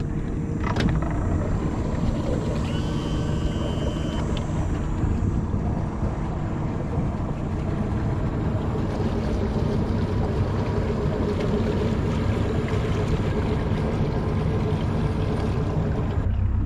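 Motor of a shallow-water fishing boat running steadily, a continuous loud drone with wind buffeting the microphone throughout, out on shallow water while scouting for trout and redfish.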